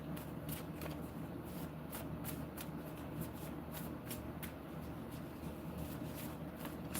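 Tarot cards being shuffled by hand, a steady run of soft riffling and flicking bursts repeating in quick rhythm, close but quiet, with no talk.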